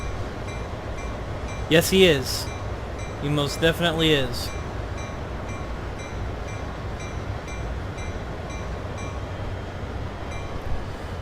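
A freight train drawn by Southern Pacific 4449 rolls along the rails with a steady low rumble and faint clinks, while someone speaks briefly over it near the start.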